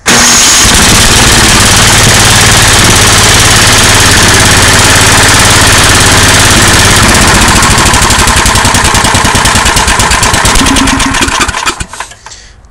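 An MTD snow blower engine runs on partial choke, a very loud, close, continuous rattling drone that holds steady before cutting off abruptly near the end.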